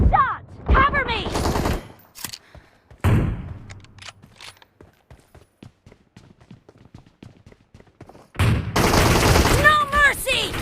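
Bursts of M1014 shotgun fire in a video game boom out in loud clusters, with heavy blasts at the start and a dense, sustained volley near the end, with quieter clatter and game voice callouts in between.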